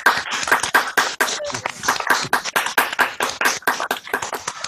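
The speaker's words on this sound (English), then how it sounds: "we'd love to give you a round of applause because you put so much work into this" An online audience applauds a pianist after a live performance, a dense, continuous patter of close hand claps lasting several seconds with no talking.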